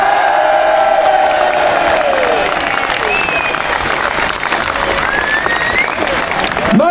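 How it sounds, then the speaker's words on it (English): Outdoor political rally crowd applauding and cheering loudly and continuously, with whistles and shouts scattered across a dense wash of clapping. "Let's have a round of applause for our mum and dad as well."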